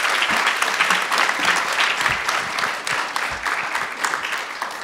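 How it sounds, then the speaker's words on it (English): Audience applauding a speaker after a talk on reducing recidivism, a loud, dense burst of many people clapping that stays strong throughout and eases slightly near the end. "Can we have a round of applause for Dr. Latessa?"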